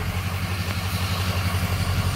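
A flatbed truck engine idles and revs while in park, producing a steady, loud low-pitched rumble with a hum throughout, close up and with no talk.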